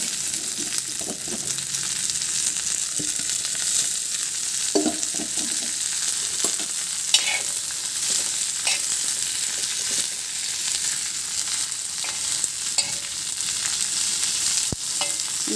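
Onions and cabbage stir-fry in a pan with a continuous close sizzle, broken by regular scraping and clinking strokes of a spatula over about fifteen seconds, and no voices.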